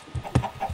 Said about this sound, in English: Inside of the bush, there's like 8 chickens hiding in the bush.